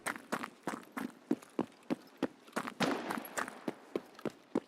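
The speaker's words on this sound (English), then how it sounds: "I heard footsteps." Footsteps in the video game Escape from Tarkov fall in a steady, quick rhythm, about fifteen crisp thuds on a hard surface, close and clear with some scuffing midway.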